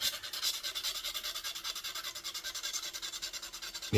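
Quick, even rasping strokes of rolled sandpaper rubbing back and forth on a fishing float body, close and fairly quiet, in a steady rhythm with no voices.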